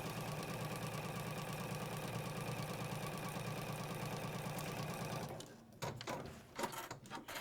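A sewing machine runs steadily while sewing a quilt section, giving a continuous, close motor whir with a fine rhythmic needle beat. It stops abruptly near the end, leaving brief handling clicks and rustles.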